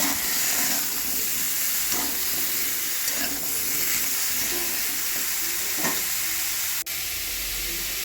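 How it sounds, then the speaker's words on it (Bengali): Potato, pumpkin and sweet potato frying in oil in a wok, a steady close sizzle and hiss running unbroken throughout, with a few soft stirring scrapes and no talk. "সবজিগুলো আবার কড়াইয়ে তেল দিয়ে এরপরে আলু কুমড়ো রাঙালু আর হচ্ছে মানে সব সবজিগুলো আমি লবণ দিয়ে ভেজে নেব"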